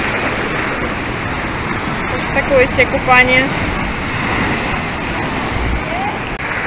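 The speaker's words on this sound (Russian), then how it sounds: "Потому что волны, видите, заливают." Ocean waves surge over a bathing spot with handrails on Tenerife, a loud, close, continuous roar of churning water, while a voice speaks briefly over the surf.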